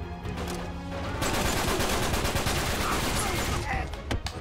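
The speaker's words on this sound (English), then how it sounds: "he keeps on blind firing" Dense, loud burst of rapid gunfire from blind firing in an Uncharted 3 multiplayer match, rattling continuously for several seconds and tapering into scattered shots at the end.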